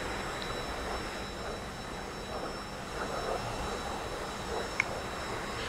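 A T-45 jet engine in DCS runs as a steady, moderately distant whine and rumble, with small throttle shifts and a brief click near the end.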